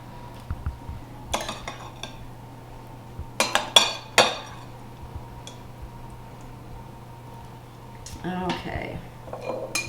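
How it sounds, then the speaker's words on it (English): A spoon scoops pineapple and cranberries into a metal strainer over a kitchen sink, making scattered clinks and scrapes in short bursts over a low steady hum. "I'm just going to spoon this over into a strainer and let it drain into the sink"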